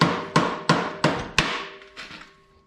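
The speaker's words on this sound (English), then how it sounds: "I always pound on PVC with a hammer." Five sharp hammer strikes ring out at a steady beat on a Harbor Freight cotter key driven through a PVC steering spindle of a Montgomery Ward racing mower, each with a ringing metallic decay, followed by two softer taps.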